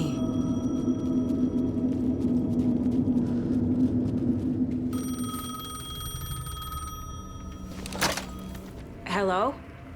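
A payphone in Alan Wake 2 rings in sharp electronic tones over a low ambient drone, followed by a brief clatter and a short warbling burst near the end.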